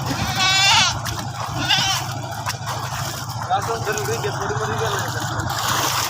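Goats bleat while being bathed in water during hot weather, a loud wavering bleat near the start followed by fainter animal sounds, splashing and people talking throughout.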